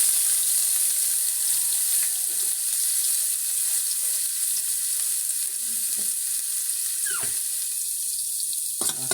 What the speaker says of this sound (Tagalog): lalagay ko na yung sibuyas at saka bawang